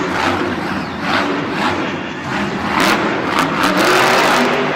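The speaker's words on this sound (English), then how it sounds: "Bernard Light's going to hit the track as that Alien Invasion truck looks to take the lead away." The Alien Invasion monster truck revs hard at a Monster Jam arena show in Pittsburgh, a loud sustained engine roar rising and falling over a cheering crowd.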